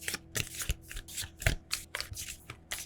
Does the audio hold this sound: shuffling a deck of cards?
yes